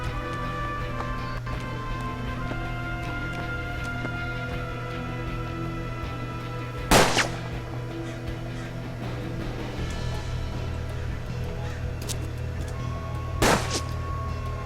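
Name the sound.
gunfire from both sides in the video game Hard West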